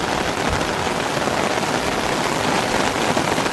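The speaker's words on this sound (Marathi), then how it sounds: "जोरातच आला पाऊस" Heavy rain pours down steadily, a loud dense hiss of drops drumming on surfaces with no pauses.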